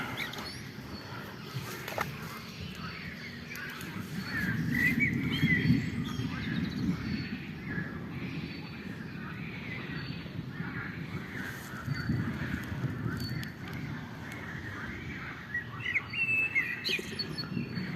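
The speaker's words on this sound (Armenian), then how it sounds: "ծիտիկների թռչունների ճռվողյունը մի առանձին հաճույք է։" Small birds chirp and tweet continuously outdoors on a lake island, a busy chorus of calls with occasional harsher caws mixed in, at moderate distance.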